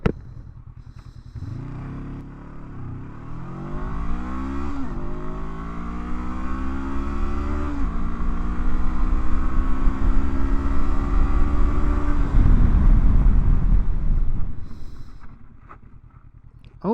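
A Honda NX500 adventure motorcycle accelerating hard through several gears, engine pitch climbing and dropping with each shift, then holding speed before braking and slowing to idle, loud and close over wind rush.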